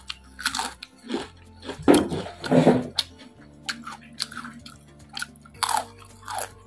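Crunchy fried cassava crackers with balado seasoning are bitten and chewed up close, giving loud, repeated crisp crunches at an irregular pace with no talking.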